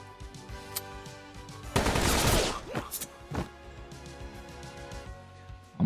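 Video game gunfire: a dense burst of rapid shots roars up around the two-second mark, followed by a few sharp single reports, with quieter game sound beneath.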